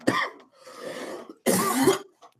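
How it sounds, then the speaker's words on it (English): A person coughs twice indoors, a short rough cough followed by a louder, longer one, close to the microphone, with no talk. "It's just a cough."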